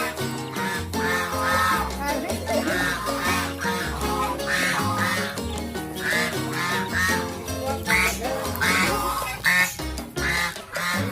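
Geese and ducks honking and quacking loudly on a farm in Indonesia, a dense overlapping chorus of calls that continues without pause over steady background noise.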